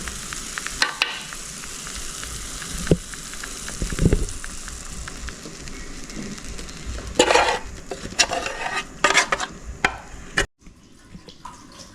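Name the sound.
egg mixture poured into pan with tomatoes, frying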